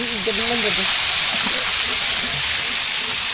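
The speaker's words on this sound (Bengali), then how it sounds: "এই যে আমাদের অক্টোপাস উঠে গেছে চুলার উপরে।" Octopus cooking on a stove at a night market in Kuakata, Bangladesh, gives a loud, continuous hissing sizzle that holds steady throughout, with brief murmurs of nearby voices underneath.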